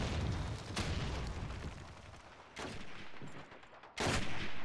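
Gunfire in an old-school FPS video game comes as dense, crackling bursts with a few sharp loud shots standing out, continuous and close with no talk.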